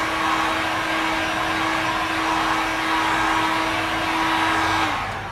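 Heat gun warming fresh car paint during a scratch repair, giving a steady loud blowing whir with a constant tone that holds for about five seconds, then drops as it shuts off; no talking.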